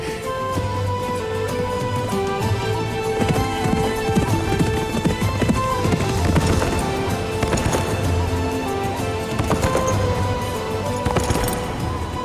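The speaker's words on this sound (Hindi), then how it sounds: "ये ख्वाब है या वाकई अर्जुन भाई घोड़े पर आ रहे हैं।" A horse approaches with a rider on horseback, its hooves clip-clopping in a steady trotting rhythm, close and clear, with an occasional whinny over layered music in a historical drama scene.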